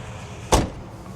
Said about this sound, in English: I can hear the doors working.